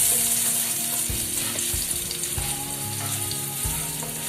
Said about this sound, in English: Now to this add the prepared dabeli spice mix and give it a quick stir.